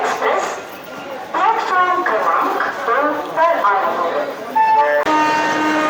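The 13021 Howrah–Raxaul Mithila Express pulls into platform 2 at Bardhaman station, a rumble with a horn-like tone near the end, mostly under continuous close talk.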